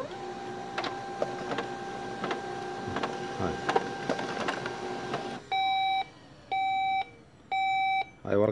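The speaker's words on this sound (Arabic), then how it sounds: "والصوت ملاحظ انه الطابعة باستمرار بتسحب" A printer with a faulty relay whirs and clicks as it repeatedly pulls paper, with rapid rhythmic mechanical strokes, followed by three evenly spaced electronic beeps near the end.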